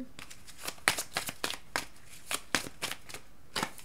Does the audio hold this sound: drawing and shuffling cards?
yes